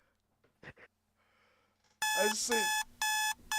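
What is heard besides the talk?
alarm clock ringing in DDLC mod video game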